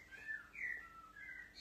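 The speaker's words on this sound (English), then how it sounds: "Can you hear birds?" Songbirds sing down a chimney in three bright chirping phrases, faint and somewhat distant, with no talking over them.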